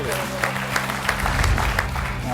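A studio audience on a Georgian comedy game show claps together in a dense, sustained burst of applause, with a voice partly heard over it.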